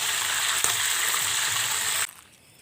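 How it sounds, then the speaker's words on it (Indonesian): Fish sizzling and spitting steadily in hot oil in a pan, cooked outdoors on a palm oil plantation, loud and continuous with a sharp crackle, then cutting off abruptly near the end. "Kita goreng ya."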